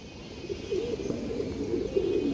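Pure white Gola pigeons coo nearby in soft, low, rolling phrases that repeat steadily over a faint background hiss.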